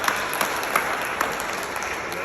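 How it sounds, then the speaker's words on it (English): A conference audience at a market-insights industry event gives a panel a round of applause, steady, dense clapping with a few sharper individual claps standing out. "So can we get a round of applause?"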